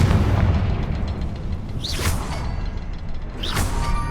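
Confringo fire-spell blasts from the video game Hogwarts Legacy: two whooshing bursts about a second and a half apart, each swelling out of a loud, dense rumbling bed of battle noise.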